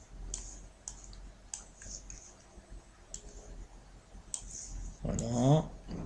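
Sharp, separate mouse clicks on a computer while the Control key is held to select table rows, coming at an uneven pace and fairly close. A short burst of speech rises near the end.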